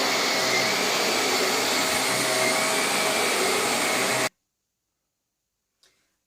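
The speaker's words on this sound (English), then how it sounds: "The vacuum can be used as a lift-off cylinder as well." A Vax Air Lift Steerable Pet Max upright vacuum cleaner runs loudly with a steady whine and airflow roar for about four seconds, then cuts off abruptly into silence with a faint click near the end.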